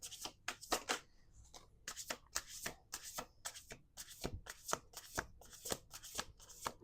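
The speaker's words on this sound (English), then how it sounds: "Last shuffle." Playing cards are riffled and shuffled up close, with repeated quick fluttering bursts of paper snapping in an irregular rhythm.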